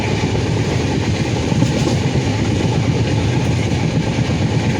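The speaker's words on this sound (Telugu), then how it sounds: "నేను ట్రైన్ ఎక్కాను" Train rolling steadily along the rails on an overnight trip to Kacheguda, Hyderabad, heard from inside the coach as a constant heavy low rumble with faint wheel clatter and no talk.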